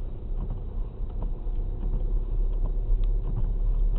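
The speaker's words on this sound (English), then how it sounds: "I'm going around this corner, clutch at biting point, second gear." A car in second gear rounds a corner on a snowy road, heard as a steady, muffled low engine rumble from inside the cabin with no talk.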